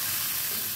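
Water drizzled into a hot pan while making a spicy Thai seafood curry gives off a steady, close, bright hissing sizzle that holds evenly for the whole short moment with no talking.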